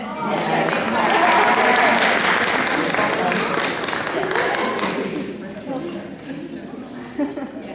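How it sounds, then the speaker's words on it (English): Audience at a school meeting gives a round of applause, dense loud clapping that peaks early then gradually thins out, with a few scattered claps at the end. "round of applause for this one kindergartner"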